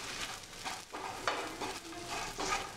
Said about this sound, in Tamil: 1-2 நிமிஷம் அதை வறுவிடட்டும்.